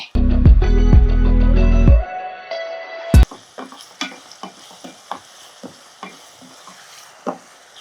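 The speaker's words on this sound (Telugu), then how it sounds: "పచ్చిమిరపకాయలు కొంచెం ఉప్పు వేసుకుంటే తొందరగా వేగుతాయి" Green chillies with a little salt frying in hot oil for a veg keema curry, with a loud steady sizzle that cuts off, then a sharp clang and a quieter sizzle under repeated scraping stirs.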